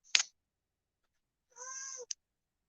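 A house cat meows close by: a short chirp, then a longer drawn-out meow after a pause, ending with a quick clipped squeak, all alone in a quiet room.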